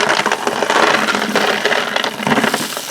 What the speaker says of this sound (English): I'm just rolling it in all different directions. And we'll just see if that coats it.